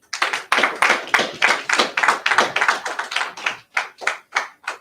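A congregation claps at a Sabbath service, loud, close, sharp hand claps in a quick steady rhythm, sometimes doubling up, continuing alone without talk.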